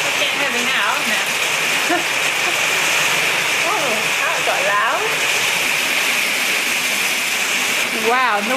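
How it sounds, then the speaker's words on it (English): Heavy rain pours down in a loud, steady roar, with faint speech-like sounds drifting through the downpour. "Very loud rain."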